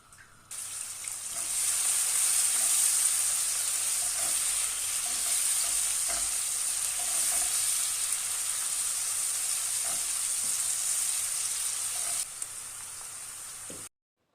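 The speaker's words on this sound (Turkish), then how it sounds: "bir tane doğranmış kuru soğanı ekleyip kavuruyoruz" Steady, loud sizzling of chopped onion frying in hot oil, continuous for several seconds, with faint clinks of stirring.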